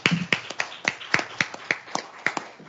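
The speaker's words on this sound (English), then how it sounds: "I'd like to give a big round of applause to all of our panelists again" A lone pair of hands or a sparse few claps at a climate infrastructure workshop panel, about a dozen sharp, evenly spaced claps, fairly quiet and separated by short gaps.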